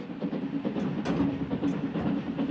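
A PLM steam train running through the Sahara in 1930s Algeria, its carriages rumbling steadily close by with a faint rhythmic clatter of wheels over rail joints and no voices.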